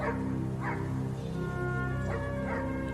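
A dog barks and yips in short, excited bursts, close and fairly loud, with whimpering tones between the barks.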